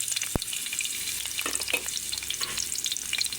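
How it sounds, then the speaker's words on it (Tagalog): Onion and garlic dropped into hot oil, with a sharp clunk as they land, then a steady close sizzle and frying hiss with scattered crackles and light stirring scrapes throughout. "dahil mainit na ang ating oil, ilalagay na natin ito sabay ang ating sibuyas at saka bawang"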